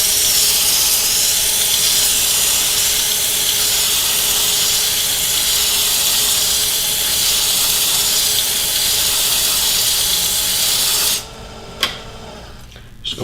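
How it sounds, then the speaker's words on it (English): Steady, loud abrasive hiss of 180-grit sandpaper rubbing across wood, continuous for about eleven seconds before stopping abruptly, followed by a couple of brief knocks in near silence. "all this piece of sandpaper here is doing is sanding out the 150"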